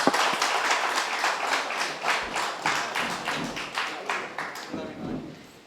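An audience at a Tamil marriage-matching astrology talk applauds as a guest named Thangapandian comes to the stage: steady, dense clapping from many hands, loud and close, tapering off at the end, with a voice faintly underneath.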